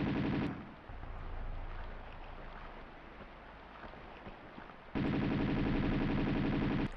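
Bursts of rapid Uzi machine gun fire from the video game Tomb Raider II rattle at the start and again near the end, loud and dense, with a quieter rumbling game ambience between them and no talk.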